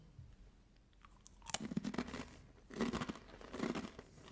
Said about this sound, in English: Nice and crunchy. It's a really nice rice cracker.